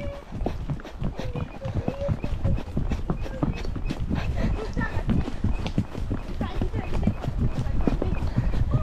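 Hooves of a mare clip-clop steadily during a difficult countryside ride, a rapid irregular patter close by, with people talking over it.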